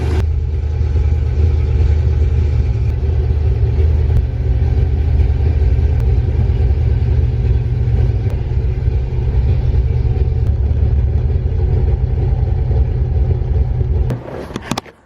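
A classic Mustang with a Coyote V8 swap idles steadily and loudly with a deep, even rumble that holds for a long stretch before cutting off abruptly near the end, followed by a few small clunks.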